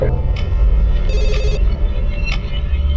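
A telephone rings at a police station with short repeated electronic trills over a low background hum, fairly loud and close.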